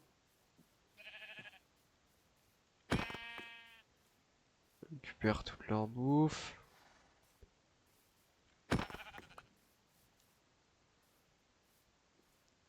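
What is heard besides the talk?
sheep bleating in the video game Minecraft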